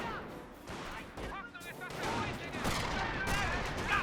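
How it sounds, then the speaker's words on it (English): Sniper rifle shots and battlefield fire in the Company of Heroes 1 strategy game, with a steady layer of gunfire and impacts, brief sharp cracks and some whistling tones, and a commentator talking over the din. "Snipers hitting some various units"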